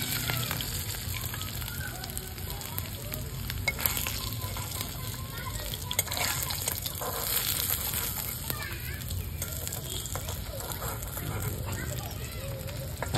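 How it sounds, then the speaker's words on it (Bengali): Masala fish pieces frying three or four at a time in a small wok, a steady close sizzle throughout with occasional stirring clicks and people talking in the background. "তো 3-4 করে মাছ ভাজা যায় ছোটোর ভিতরে"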